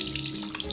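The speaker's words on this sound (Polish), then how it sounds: "Teraz spłukujemy mydło z rąk" Running tap water splashes steadily over soapy hands at a sink, a continuous close rushing hiss with no pauses and no one talking.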